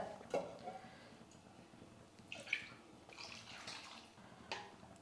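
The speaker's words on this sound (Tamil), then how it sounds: "தேவையான அளவுக்கு நம்ம தண்ணி சேர்த்துக்கலாம்" Water is poured into a pot of lentil sambar as it cooks, making a faint splashing trickle in short bursts with quiet drips in between.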